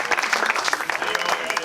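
Brief audience applause at an event in Schladming, a steady wash of many hands clapping at moderate loudness, with no pauses.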